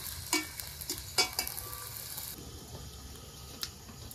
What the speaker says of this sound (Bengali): সবজিগুলো ফোড়নে নেড়ে চেড়ে দিলাম